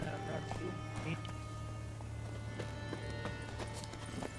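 Roach, Geralt's horse in the video game Witcher 3, clip-clops along at a steady trot with a brief whinny, set over a constant low game drone and ambient texture; a voice speaks over the hoofbeats.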